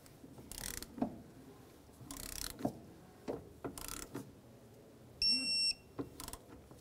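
Ratchet tightening the nut on the windshield wiper transmission linkage of a 2010–2013 Ford Transit Connect, several separate bursts of quick clicking strokes near the microphone, with a brief high metallic ring partway through.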